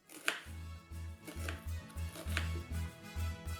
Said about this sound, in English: then we're going to slice the onion into even sizes and slices